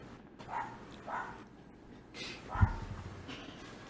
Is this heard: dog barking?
yes